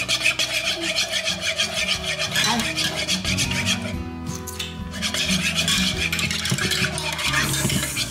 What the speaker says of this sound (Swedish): Rör ut jästen lite i mjölken som värms i ugnen.